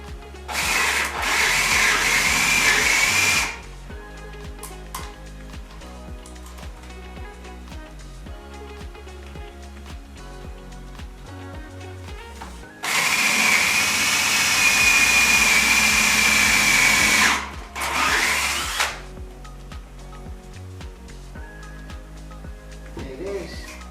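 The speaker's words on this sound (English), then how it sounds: "Drilling. I have bottomed out." A power drill bores into a log for a rustic Adirondack chair, two loud sustained whining runs with a short burst after the second, separated by quieter gaps, close by.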